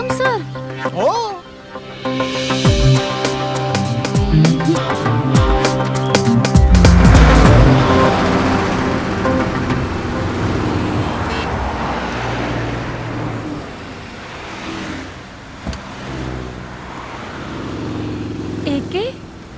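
A car rolls in to be parked, its engine and tyres swelling to a loud pass midway before easing off, mixed with background music and people talking.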